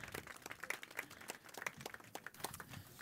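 Scattered clapping from an audience welcoming a speaker, quiet and steady, with many overlapping hand claps.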